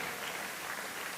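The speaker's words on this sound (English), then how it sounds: "Please keep clapping till he gets here." A hall audience at a technology expo in Lagos claps continuously, a soft, even wash of many hands with no distinct peaks and no talking.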